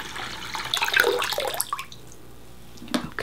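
Water splashes and gurgles as it pours into a small portable washing machine indoors, loud and close at first, then settling into quieter trickles and drips.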